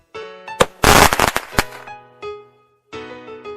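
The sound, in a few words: fireworks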